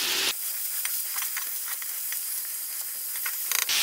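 A burger patty frying in a cast iron pan on high heat, hissing in a loud constant sizzle with faint crackles, cutting in abruptly and stopping just as suddenly, without talk.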